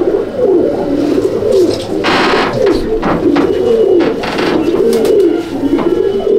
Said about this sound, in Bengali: এই হচ্ছে রকিদার সব টেডি পায়রাগুলো ছাড়া রয়েছে এখানে